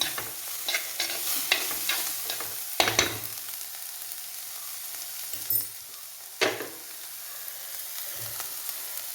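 A spoon stirs chicken thoran frying in a pan, giving scattered scraping and clattering strokes over a soft steady sizzle, close and fairly quiet with no talking.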